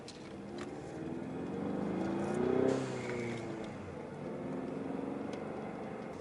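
A car fitted with a Steeda blow-off valve adapter accelerates to road speed, its engine rumbling and rising in a swelling rev that peaks then settles into a steady cruising drone, heard from inside the cabin.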